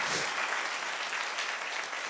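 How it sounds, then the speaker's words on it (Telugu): A church congregation claps loudly and steadily, the dense applause filling the room without a break. "గట్టి చప్పట్లు కొడుతుంది మైపరదా"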